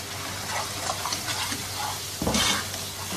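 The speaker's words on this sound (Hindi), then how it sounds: "मिक्स कर लेंगे सारे मसालों को।" Ground spices for a mutton kofta curry are stirred in a pan, giving a steady close scraping and soft sizzle for about three seconds, with a louder scrape near the end and no talking.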